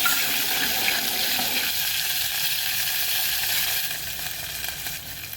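Water poured into a hot pan of chillies while making besan khaman, a steady broadband hiss and splash that fills the first seconds, then softens and thins out toward the end, with no voices.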